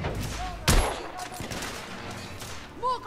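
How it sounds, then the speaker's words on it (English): A single heavy sniper rifle shot cracks out in The Order 1886 on PS4, loud and abrupt against a bed of game noise and faint voice-like sounds. "Well, let's try the sniper then."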